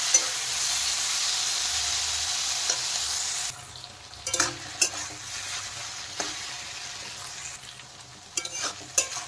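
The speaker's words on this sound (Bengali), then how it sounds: "এখন এগুলো ভালোভাবে মিশিয়ে দেবো লতির সাথে, দিয়ে একটু ভালোভাবে করে কষিয়ে নিতে হবে" Kochur loti frying with garlic and onion paste: a steady hiss of sizzling in the pan fades after a few seconds, then scraping stirs and clinks of the spoon come and go at close range.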